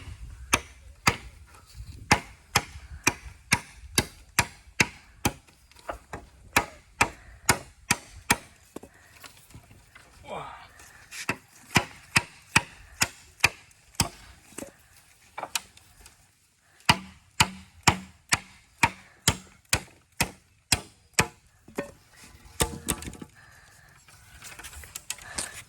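Sharp, repeated chops of a blade striking bamboo, cut outdoors while building a camp shelter, landing in a steady loud rhythm of dozens of blows with a short pause midway.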